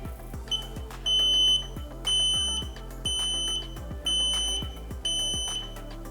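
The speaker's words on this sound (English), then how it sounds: "there is that audible beep" A series of sharp electronic beeps repeats in a steady pattern, each tone clear and close, with clicks between them, from a Pride GoGo Carbon folding mobility scooter as an NFC key fob is placed on it.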